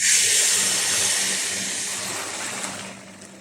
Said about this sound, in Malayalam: അപ്പോൾ നമ്മൾ എടുത്ത് വെച്ചിരിക്കുന്ന രണ്ടാം പാൽ ഇതിൻ്റെ അകത്തേക്ക് ഒഴിച്ചു കൊടുക്കാം